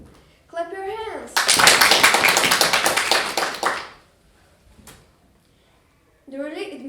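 Hands clap in a rapid, loud burst of about a dozen close claps lasting several seconds, with a voice speaking before and after the clapping.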